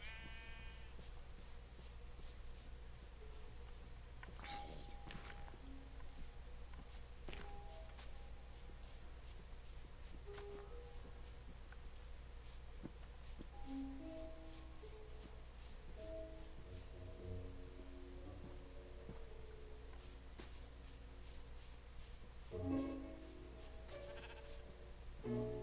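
Sheep in the Minecraft video game bleat several times at scattered moments, some close and some softer, over a quiet game backdrop with regular light ticking.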